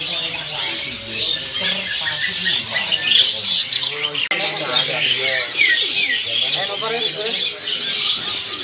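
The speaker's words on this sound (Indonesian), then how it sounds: "Ready juga ya, dorok kolongan atau merpati kolongan." Kolongan pigeons cooing inside a bird market kiosk, a dense overlapping chorus of throaty coos with some squawks and chirps from other birds, continuous and close, with a person talking over it.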